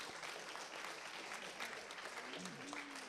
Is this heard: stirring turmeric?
no